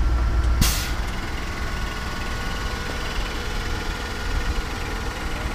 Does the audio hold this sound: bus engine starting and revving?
yes